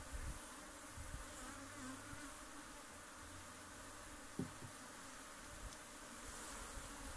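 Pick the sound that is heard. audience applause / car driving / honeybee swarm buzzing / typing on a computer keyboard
honeybee swarm buzzing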